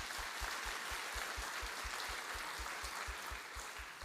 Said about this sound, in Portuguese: Vamos aplaudir Jesus, que é lindo demais, gente.